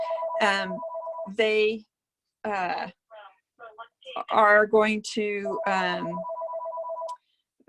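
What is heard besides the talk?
mobile phone ringing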